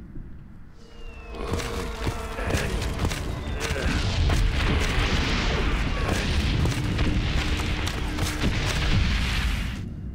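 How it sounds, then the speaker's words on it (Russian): Explosions and artillery fire in the Valiant Hearts: The Great War battlefield finale, a continuous loud barrage of booms and blasts rumbling throughout. "Черт, взрыв."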